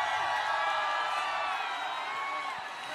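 A large stadium crowd at a concert in Minsk roars and cheers in a dense, steady wash of noise that stays loud throughout.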